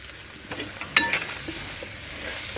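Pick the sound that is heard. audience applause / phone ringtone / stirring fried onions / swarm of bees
stirring fried onions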